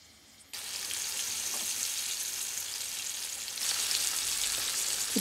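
Cod fillets dredged in flour sizzle loudly in a hot frying pan, a steady crackling hiss that jumps louder partway through as more fish is added.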